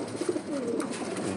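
Pigeons coo softly nearby in a brief run of low, throaty calls over faint background noise.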